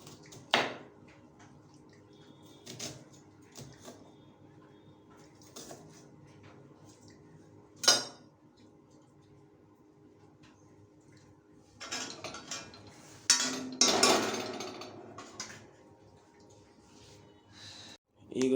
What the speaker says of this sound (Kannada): ಈಗ ಈರುಳ್ಳಿ ಕಟ್ ಮಾಡ್ತಿದ್ದಾರೆ